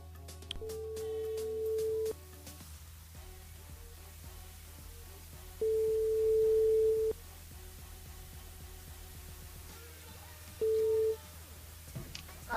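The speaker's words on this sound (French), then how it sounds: "on appelle Lionel du côté du sud de Tampon" Telephone line tones during a live radio call-in, with three separate steady beeps of varying length rising over a low background hum and a faint crackle, quiet and without talking.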